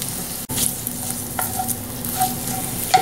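Mushrooms sizzle in a pan with butter while being stirred, a steady close frying hiss with scraping stir sounds and a sharp clank near the start.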